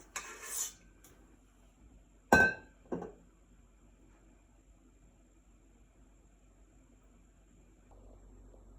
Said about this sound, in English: Putting the Madeleines into their pan. It says to use a heaping tablespoon.